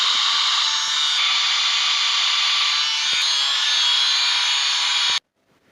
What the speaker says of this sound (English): You work this edge all the way around.